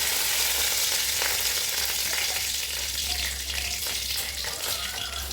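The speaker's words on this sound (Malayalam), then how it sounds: "ഇനി നമ്മൾ എടുത്ത് വെച്ച് കറിവേപ്പില ഇട്ട് കൊടുക്കാം." Curry leaves crackle and sizzle in hot oil with spluttering mustard seeds while a Kerala tomato rasam is prepared, a loud, dense, continuous frying hiss heard up close with no talking.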